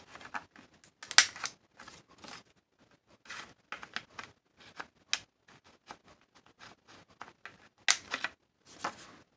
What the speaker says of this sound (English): I should probably trim the edges with my corner punch